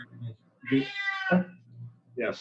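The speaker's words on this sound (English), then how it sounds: "sorry for the cat" An old senile rescue cat gives a long, drawn-out meow in the middle, loud and close, with a brief vocal chirp near the start and another rising meow at the end, while a person speaks around it.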